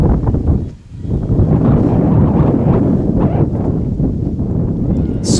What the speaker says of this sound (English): This is a windy day, that is for sure.